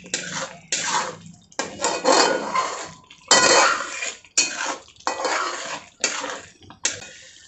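A spoon scrapes and clanks against a pan while green peas paneer gravy is mixed with red chilli powder and turmeric, in repeated loud bursts of stirring separated by short pauses, close up with no speech.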